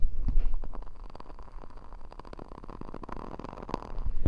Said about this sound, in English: that's my crackle wick candle, and I've got it on in the background